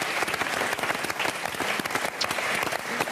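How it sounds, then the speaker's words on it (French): Loud, continuous applause from a French television studio audience greeting a guest, many hands clapping together at close range with no voices on top. "On l'applaudit."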